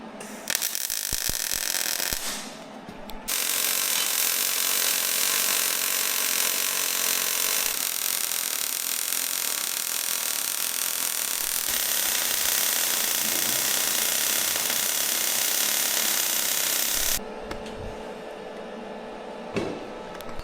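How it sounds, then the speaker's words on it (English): Stitch welding steel on a Fiat bulldozer, a loud continuous crackling hiss running in long unbroken stretches, with short pauses and lower workshop noise between runs. "So we've started welding"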